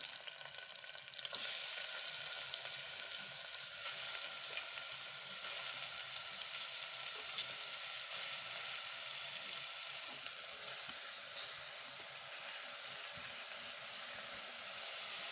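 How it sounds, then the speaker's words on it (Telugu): Onions frying in a pan for spicy mutton curry give a steady, fairly quiet hiss and sizzle that runs unbroken throughout, with no voices. "ఇప్పుడు మనం ఆనియన్స్ వేసేసుకుంటాము"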